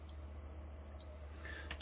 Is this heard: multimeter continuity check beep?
yes